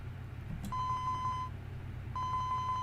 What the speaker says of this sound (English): Suddenly his phone rang, nearly startling him out of his seat.